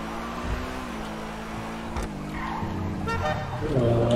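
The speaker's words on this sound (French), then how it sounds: "Un petit klaxon." A car horn gives a brief toot at the end in GTA 5 Online, sounding from a car won on the casino podium, over a steady engine hum with faint tire noise.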